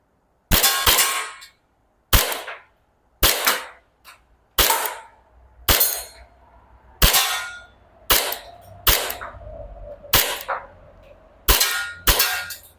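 An Army R601 BB pistol firing at targets about ten meters away: roughly a dozen sharp cracks spaced about a second apart, each ringing briefly with metallic target hits, a slight clatter as the slide locks back when empty.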